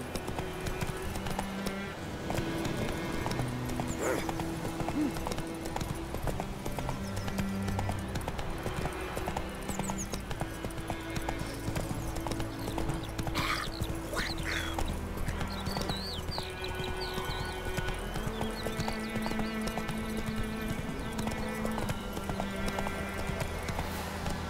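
The horse Roach in The Witcher 3: Wild Hunt, rhythmic hoofbeats clip-clopping steadily throughout alongside game music and ambient sound, with an occasional brief whinny and a voice speaking.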